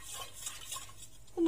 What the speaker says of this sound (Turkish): şekerimizi bir karıştıralım şöyle.